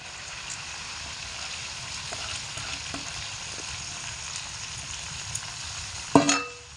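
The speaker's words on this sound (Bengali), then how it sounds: "চাল দিয়ে ভালো করে মশলার সঙ্গে কষিয়ে নেব লো টু মিডিয়াম আঁচে রেখে মশলার মধ্যে চাল দিয়ে মশলা আর চাল একসঙ্গে খুব ভালো করে" Parboiled rice is stirred with spices in a pan over low to medium heat, a faint, even sizzle with light stirring, ending in a sharp utensil clank against the pan.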